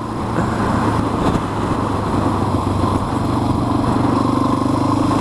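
A Honda XR650R motorcycle engine runs steadily nearby, a loud continuous thumping drone with a slight rise in pitch partway through and no talking.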